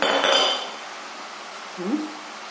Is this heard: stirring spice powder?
yes